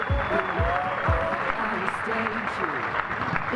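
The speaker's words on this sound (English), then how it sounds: "I'd like a proper Sharks rugby hand of applause" An awards dinner audience applauds the Currie Cup-winning Sharks rugby squad with steady, close clapping that runs the whole time, while voices talk and murmur under it.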